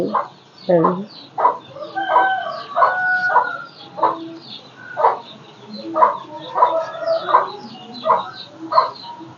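Chickens at a home in Thoothukudi being fed fish scraps, clucking and squawking in irregular close bursts, with a dog barking and voices talking in the background.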